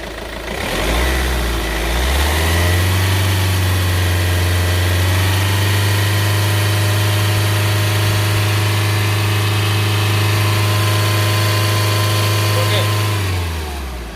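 A 2014 Hyundai Elantra diesel engine idles with a low, steady drone, then is revved up and held at a higher, even pitch for several seconds before dropping back down, close and loud.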